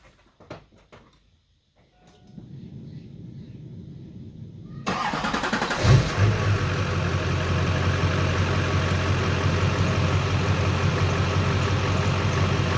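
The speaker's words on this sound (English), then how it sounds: "So we're gonna go ahead and start it up, let it warm up to temp" A Duramax diesel truck cranks and catches after a quiet stretch, then settles into a loud, steady idle close by as it warms up, a constant rough diesel rumble with no voices.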